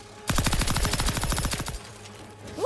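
Automatic gunfire from a weapon in The Outer Worlds 2, a rapid burst of about fifteen close, loud shots in quick even succession lasting over a second, then a fading tail and quiet game ambience.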